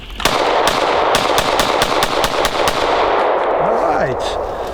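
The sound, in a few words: Glock pistol in Recover Tactical PIX+ chassis firing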